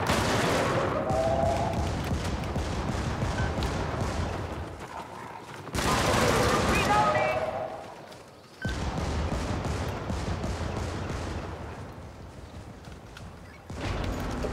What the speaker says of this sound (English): Punisher is a shotgun with a very tight choke